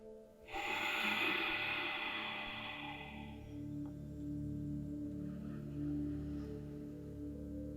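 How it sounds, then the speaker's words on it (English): Slow, deep breaths during a yoga session, a long airy inhale-exhale swell up front followed by quieter breathing, close and alone with no talking. "just take 3 deep breaths"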